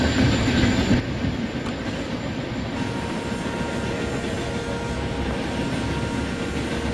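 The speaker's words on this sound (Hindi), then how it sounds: "सामने से कोई ट्रेन आती हुई" A train approaching and passing near Ghaziabad in Indian Train Simulator, a steady loud rumble of rail wheels and engine that continues throughout, with a brief high hiss in the first seconds.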